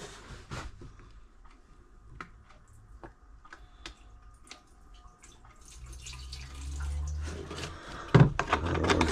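Liquid sloshes inside a rusty 1984 Yamaha Virago motorcycle fuel tank. Scattered ticks and drips come first, then a swelling, hollow swirl of liquid with a few clunks toward the end.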